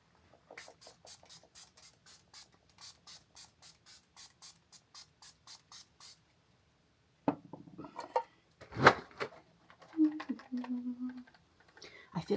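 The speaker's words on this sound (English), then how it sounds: "the last thing will be to do our setting spray, and this is the Milani, the Make It Last, the original" A Milani Make It Last setting spray is pumped in a quick, regular string of short, crisp hissing bursts, followed by scattered handling and rustling noises nearby.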